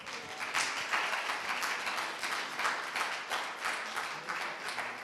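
Clapping from an audience at a university presentation competition final: a modest round of applause with irregular individual claps, fairly faint and distant.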